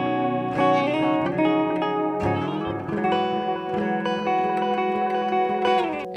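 An electric guitar runs through an MXR Carbon Copy analog delay pedal with its mod chorus engaged, sustained chords ringing with a warbling, wavering shimmer and echoing tails, played alone and upfront.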